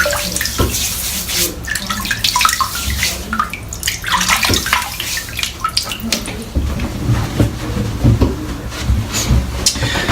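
Tap water runs loud and close without a break, splashing as it wets a head ahead of a shave.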